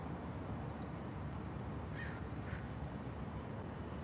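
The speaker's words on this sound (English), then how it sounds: "Crows and the pigeons." Crows cawing in a few short bursts at a distance, faint over steady broadband background noise outdoors at night, with pigeons also around.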